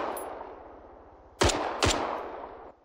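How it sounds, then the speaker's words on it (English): A machine gun fires from a comms tower in ArmA 3: two sharp, loud reports half a second apart ring over a steady low engine-like drone, with no voices. "that's the machine gun at the comms tower that's firing just now"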